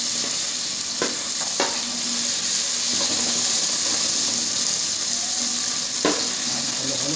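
Onions sautéing in a pan for a clam dish, a steady bright sizzle throughout, with a few sharper clicks of stirring now and then.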